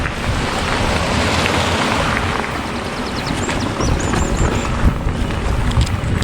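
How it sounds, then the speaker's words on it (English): Loud wind buffets the microphone continuously on a bikepacking trail in Belgium, a broad rushing roar with gusty swells and no talking. "the weather, it's windy, not very sunny"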